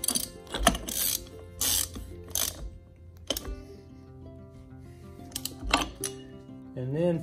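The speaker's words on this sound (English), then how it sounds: "And tighten it down." A ratchet tightens the last nut on a Willys Jeep front steering knuckle during a studded knuckle upgrade, giving several short bursts of clicking with pauses between and a faint metallic ring near the end.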